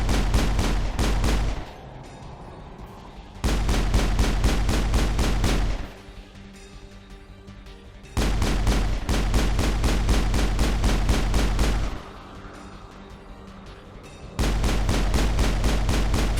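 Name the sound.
Shepard firing a pistol at an Armature in video game Mass Effect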